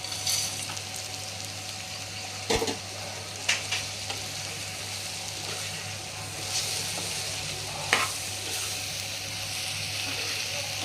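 Golden-brown fried taro root is turned through masala in a pan, a steady close sizzle with intermittent scraping and knocking of a spatula against metal, continuous for about ten seconds without speech.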